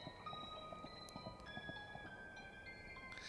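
Horse hooves in the pixel-art 2D game Kingdom: a steady, quiet clip-clop of a ridden horse at night, alongside sustained tonal music notes and no talk.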